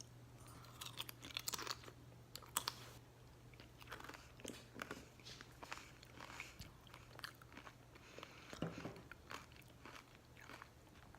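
Super crunchy food is bitten and chewed close to the mouth, a quiet run of uneven crunches and crackles over a low background hum.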